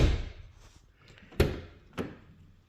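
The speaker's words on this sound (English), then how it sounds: "Another simple test is to simply shut the door and listen for any loose rattling." A car door shut during an inspection for crash damage gives two solid thunks about half a second apart, fairly close, after a fading noisy start, with no loose rattle following.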